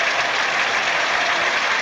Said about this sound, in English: A lot of people down there pointing and applauding Arantxa for carrying on just as well she did